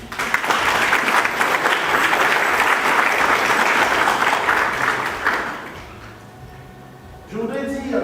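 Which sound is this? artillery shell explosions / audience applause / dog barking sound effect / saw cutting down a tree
audience applause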